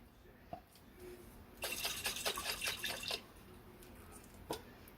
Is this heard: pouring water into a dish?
yes